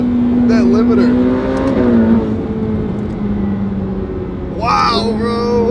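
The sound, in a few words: Ferrari F8 Tributo with titanium exhaust revving to the limiter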